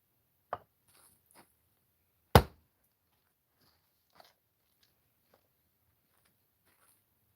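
Firewood being split for a wood stove: a few sharp, isolated cracks of a tool striking wood, one much louder than the rest, with quiet gaps in between and no talking.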